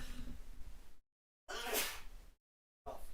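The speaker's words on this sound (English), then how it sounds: "I've been sneezing all night" A single sharp sneeze bursts out close by between stretches of quiet background chatter from a live hockey game stream, with a brief pause on either side.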